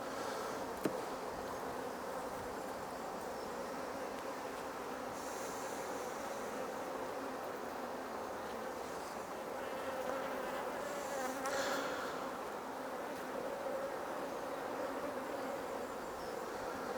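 Honey bees buzz around a hive while foraging on blackberry, a dense, continuous hum of many insects close by, with individual bees droning past now and then and no talk.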